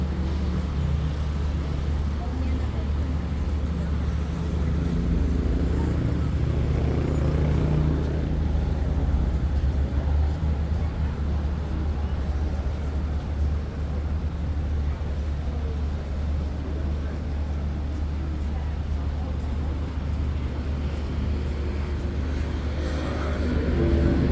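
Rapid train 171 rumbles steadily at Ban Pong station as it makes a second stop, a continuous low engine drone that holds from start to finish.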